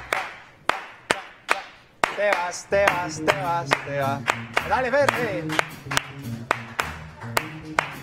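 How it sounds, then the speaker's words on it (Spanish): Wind musicians on a TV variety show clap off-beat in sharp, spaced handclaps that settle into a quick rhythmic pattern, with someone talking over them and a brass-like melodic line entering partway through. "estaban haciendo unas palmas a contratiempo padrísimas"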